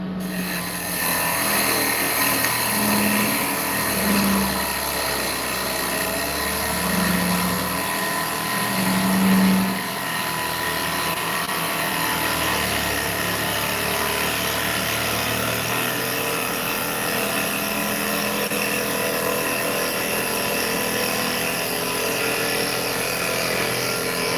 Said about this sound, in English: just so I can keep working the swing and the movement with this tailstock or with this bowl gouge.